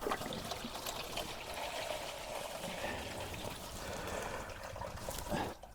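Coolant drains from a pulled car heater hose into a 6 litre drip pan, a faint, steady trickle and dribble of liquid running without pause.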